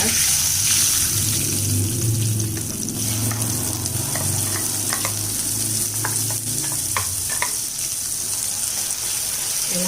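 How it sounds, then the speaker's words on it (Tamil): Raw mango paste hits a hot tempering pan for raw mango puliyodharai, bursting into a loud, steady sizzle with stirring scrapes and crackles running throughout, close and continuous with no talk. "இப்போ அந்த மாங்காவை சேர்த்துக்கலாம் நம்ம"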